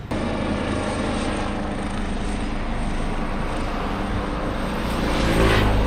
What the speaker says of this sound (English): we've noticed many helicopters